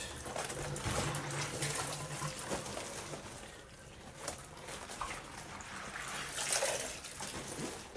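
Water runs from a tap while a PVC suit with hand-glued seams is rinsed, a soft continuous splashing and trickling with irregular surges, fairly quiet and with no voices.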